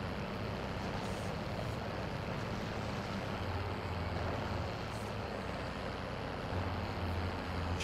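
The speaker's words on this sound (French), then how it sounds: "C'est le camion là qui est en train de s'enfuir les gars que je dois buter." Truck engine in the video game Warzone, a low steady rumble of a vehicle driving off, faint and continuous with no voices over it.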